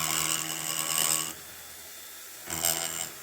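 A rotary burr grinds away at a P42 piston, blending a spot into the main body with a steady high whine for over a second, pausing, then biting back in near the end.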